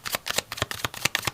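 Tarot cards of the Smith-Waite deck shuffled by hand close up, a quick run of crisp riffling flicks and taps in rapid succession, fairly loud and alone.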